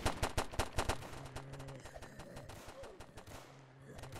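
Rapid bursts of UZI gunfire in the Roblox game Infected Games, several sharp shots up front then a busier spray of lighter pops with game sounds mixed underneath.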